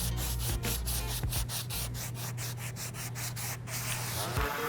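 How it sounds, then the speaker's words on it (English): Sandpaper is rubbed by hand over the tight corners of an old wooden table in quick, rhythmic back-and-forth strokes, a steady close scratchy rasp. "For tight corners, just use good old-fashioned sandpaper."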